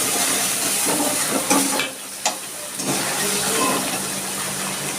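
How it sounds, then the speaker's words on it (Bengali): Water poured into a pan of cooking spices for a Bengali doi katla fish curry, a steady sizzling hiss close by that briefly dips midway, then carries on loud and continuous. "মশলার প্লেটটা ধুয়ে আমি আরেকটু জল দিয়ে দিচ্ছি।"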